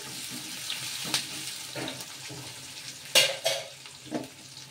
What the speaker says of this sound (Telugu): కొంచెం జీలకర్ర, ఆనియన్స్, కట్ చేసి పెట్టుకున్న ఆనియన్స్ కూడా వేసేసుకొని ఒకసారి కలిపేసుకుందాం.